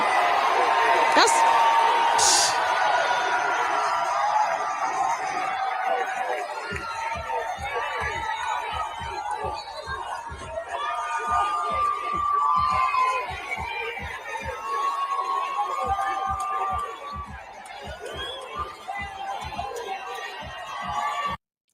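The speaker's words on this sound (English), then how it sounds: "check out the crowd for the turnout of the parade. Look at all those people." A large crowd turned out for the Las Vegas Aces' WNBA championship parade in Las Vegas, filling the air with a steady roar of cheering and chatter, with scattered whoops and nearby voices throughout.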